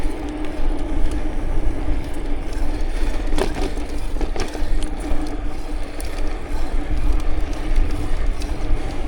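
A train rumbles past near the Port of Brisbane cycleway, a loud, steady roar of rolling wagons and rail noise with occasional metallic clanks.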